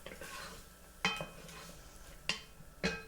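Onion sautéing in hot oil in a pot, a soft low sizzle beneath three or four sharp metallic scrapes and clinks of a spoon stirring against the pot.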